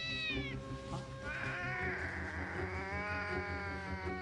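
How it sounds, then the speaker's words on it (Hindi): A kitten cries in a run of high, drawn-out meows over a steady tonal backdrop, the calls rising and wavering as they go. "खुदा ये तो एक बिल्ली का बच्चा रो रहा है"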